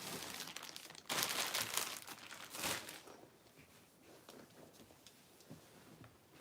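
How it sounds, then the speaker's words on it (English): Cards are pulled out and handled with crinkly, papery rustles, louder bursts in the first few seconds and softer shuffling afterward, close by with no talking. "let me get some cards out"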